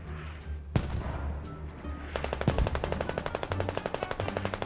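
Gunfire in a multiplayer war video game: a couple of single sharp shots, then a sustained rapid automatic burst with a steady rattling rhythm, loud and close with no talking.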